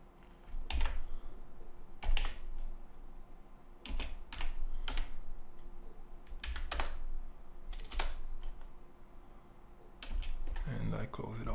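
Code typed on a computer keyboard: bursts of clicking keystrokes with pauses between, close by, while a person talks over them.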